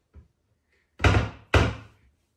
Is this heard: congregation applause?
no